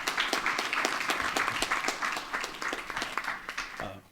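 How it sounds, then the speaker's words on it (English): Applause from a panel audience, with distinct hand claps in a steady rhythm, fairly near and moderate in level. The claps thin out and stop at the end. "Please clap your hands for Mr."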